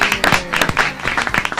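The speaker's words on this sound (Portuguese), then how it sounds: "Senhoras e senhores, uma salva de palmas para Isabela." Studio audience applauding a guest on a Brazilian talk show, a dense burst of clapping that stays steady and fairly loud for its whole short length.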